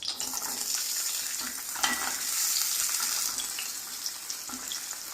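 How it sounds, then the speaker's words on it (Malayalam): Small shallots frying in hot oil with dried red chillies for onion chutney crackle and sizzle steadily, with a few soft stirring sounds and no talking. "ഇനി അതിലേക്ക് നമുക്ക് ഈ ചെറിയ ഉള്ളി ഇട്ട് കൊടുക്കാം"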